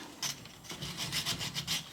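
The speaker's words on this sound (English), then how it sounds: "I've been lightly sanding it." Seat trim on a 1998 Lincoln Mark VII is lightly sanded by hand, giving a steady run of soft, rhythmic abrasive rubbing strokes heard up close with no voices.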